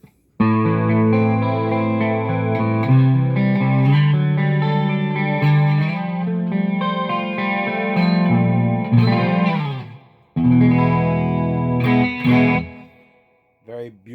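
A clean electric guitar through a Hughes & Kettner Black Spirit 200 amp rings out loud and sustained, strummed chords with a shimmering chorus-like wash, stopping briefly before more chords resume.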